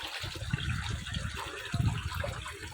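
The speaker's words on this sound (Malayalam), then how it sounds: "ഈ പൈപ്പിൽ കൂടെ ഇതാ ഇങ്ങോട്ട് വെള്ളം വരും ഈ കൃഷി സ്ഥലത്തേക്ക് വെള്ളം" Water gushes out of a pipe into a farm plot, a close, steady rushing splash with low gurgling throughout.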